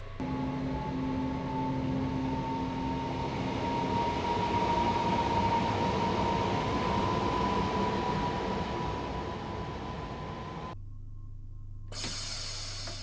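A train in Train Simulator 2016 pulls out of Forest Hill station on the East Croydon to London Bridge stopping route. A steady, loud rolling rumble and a humming tone carry for about eleven seconds, then the sound cuts sharply and shifts.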